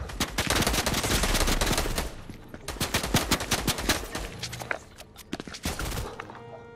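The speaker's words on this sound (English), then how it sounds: "Shoot him, he's right there." Rapid bursts of gunfire from guns in the Fortnite video game crackle in dense volleys, pausing briefly mid-clip before more scattered shots and quieter single pops follow.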